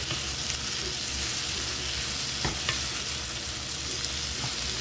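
Garlic and chili frying in a pan while being stirred: continuous loud close sizzle with occasional scraping stirs, no talk.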